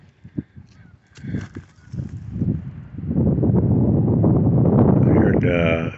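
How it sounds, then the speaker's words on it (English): A goose on a pond honks a few times in the distance amid outdoor park noise and rustling, with people talking nearby and a louder honk near the end. "I heard a goose."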